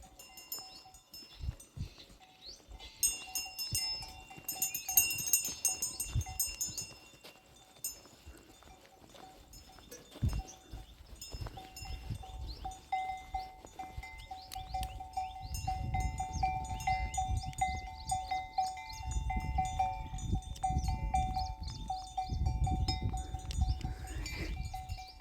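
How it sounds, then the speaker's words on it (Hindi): A bell hangs on a buffalo's neck and rings in repeated light clangs through the clip, joined by hoof clip-clop and other livestock moving nearby outdoors. "देखो इस भैंस के गले में जो घंटी है उसकी आवाज़ सुनो।"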